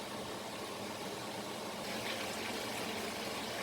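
Mutton karahi simmering hard on a high flame as its water cooks off, giving a steady, even hiss and bubble that swells slightly toward the end, with no talking.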